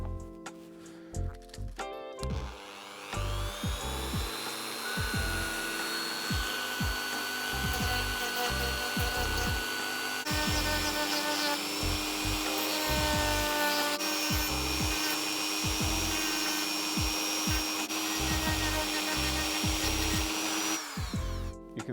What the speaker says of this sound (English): I'm going to get a finer grit sandpaper for the Dremel head.